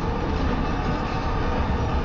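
Minecart rumbling along rails in Resident Evil 4, a steady, loud, dense rolling roar with low-end rattle holding evenly throughout, with no voices over it.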